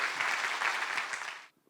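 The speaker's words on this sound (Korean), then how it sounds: "우리 박수로 힘차게 우리 선교사님 환영하겠습니다" A church congregation applauds to welcome a missionary, brisk dense clapping from a hall full of people that holds steady for over a second and then stops abruptly.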